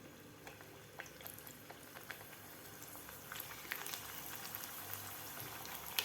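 Fresh methi puris dropped into hot oil bubble and crackle in a steady, soft frying hiss with scattered pops, faint and continuous, no voices.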